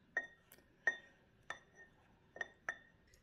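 A spoon clinks against a glass while stirring grenadine syrup into water, five or six distinct bright taps at an uneven pace, close and clear with no talk.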